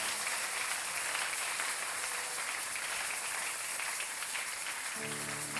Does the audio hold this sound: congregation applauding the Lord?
yes